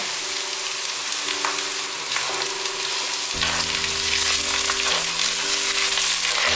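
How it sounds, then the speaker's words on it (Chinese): Shiitake mushrooms stir-fry in oil in a wok with a steady, close, loud sizzle and crackle, with occasional scraping from stirring, no talk over it. "差不多炒了2分钟，把香菇放进来。"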